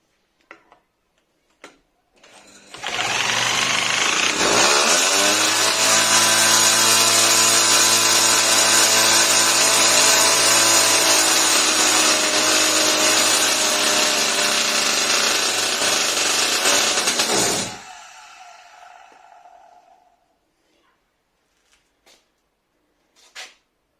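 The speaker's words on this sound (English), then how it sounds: "I might just use a drill and see if that does the trick" A cordless drill spins the engine of a minimoto left stored outside for six years, a loud, steady whirring drone lasting about fifteen seconds before it cuts off, with a few faint clicks before and after.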